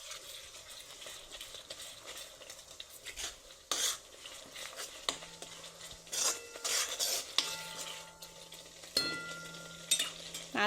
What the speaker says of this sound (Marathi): आता याच्यामध्ये थोडीशी चवीनुसार हळद टाकू आणि मिक्स करून घेऊ